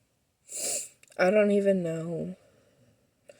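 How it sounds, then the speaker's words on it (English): One loud, breathy sniff up close, followed by a short drawn-out voiced sound, then quiet. "Sorry I'm sniffling."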